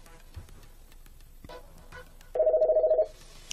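An office phone on a small business telephone system rings with an incoming call, a short, mid-loud electronic ring pulsing in quick repeated beats after a few faint clicks and handling noises.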